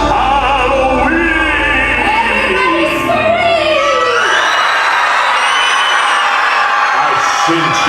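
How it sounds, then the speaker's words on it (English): A crowd at a Disney cruise Halloween on the High Seas show shouts and whoops loudly together, a dense, sustained wall of mixed voices cheering close by. "Let me hear a loud scream, for that is what is needed to summon Halloween."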